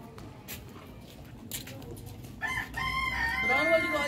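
Hens clucking in a backyard coop, with a rooster's crow rising clearly over the second half after quieter scratching and a few sharp bursts at the start.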